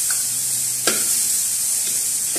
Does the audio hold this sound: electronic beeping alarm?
no